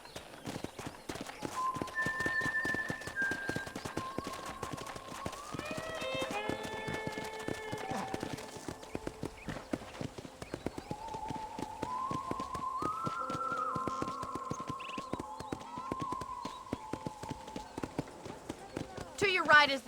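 Horse hooves clip-clopping at a steady trot while riding in Red Dead Redemption, a rapid continuous patter of hoofbeats throughout, with voices talking over it.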